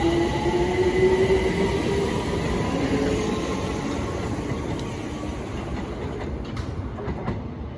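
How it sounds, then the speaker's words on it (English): A London Overground Windrush Line train pulls away toward Clapham Junction, wheels clattering and a rising electric motor whine that gradually fades as it leaves, with no talking. "departing now is the 1228 London Overground Windrush Line service to Clapham Junction."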